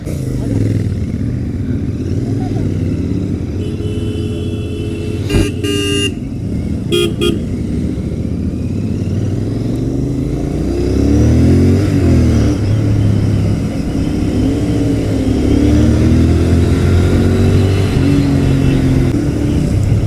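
A Royal Enfield Continental GT 650 motorcycle engine drones steadily, ridden somewhat hard at night on a road, with traffic noise, a brief horn toot, and a voice talking over it.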